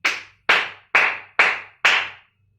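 Five sharp, bright flamenco palma seca hand claps in an even rhythm about half a second apart, close and loud, then silence.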